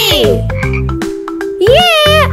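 A frog croaks loudly and close in a cartoonish children's learning setting, giving several drawn-out, warbling croaks with brief pauses between them.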